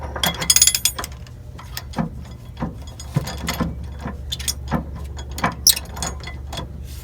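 Ratchet clicks from a socket wrench working a tag axle bushing bolt on a Wanderlodge motorhome, coming in spaced bursts of metallic ticking, close and fairly clear with no talk.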